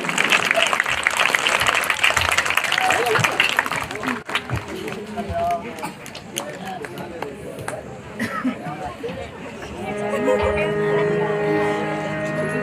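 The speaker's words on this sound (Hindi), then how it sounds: "एक बार जोर से तालियों का स्वागत कर दें" Crowd at an outdoor Ramlila performance of the Bharat Milap episode claps loudly for several seconds, then the applause thins into scattered claps and crowd chatter, with music and voices rising near the end.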